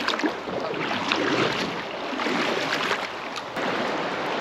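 A kayak is paddled along a small river, with water splashing and rushing close by in a steady wash, a little wind, and no talking.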